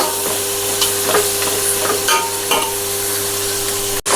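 Ingredients for chicken biryani sizzle in a pan while being stirred, a close, steady frying hiss broken by a few sharp scrapes and clinks of the spoon, with a low hum underneath and no talk.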